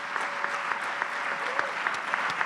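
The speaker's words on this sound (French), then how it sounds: "Et j'aimerais que vous saluiez, manifestiez par un tonnerre d'applaudissements Ernst Matei Assine" Concert audience applauding in a hall, a steady wash of many hands clapping at moderate distance with occasional sharper claps, continuous for the whole stretch.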